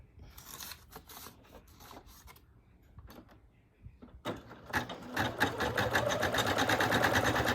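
An embroidery machine stitches yellow thread onto a patch. It starts with sparse, uneven clicks and taps, then settles into a dense, rapid mechanical rattle that grows louder and steadier, heard up close with no talk.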